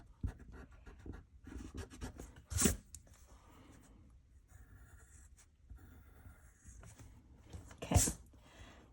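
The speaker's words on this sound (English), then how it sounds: "now we can erase just this little tip right here" Eraser rubbing back and forth on paper while drawing a sorting hat, a soft scratchy scrubbing with two sharper louder strokes, close and quiet, no talking.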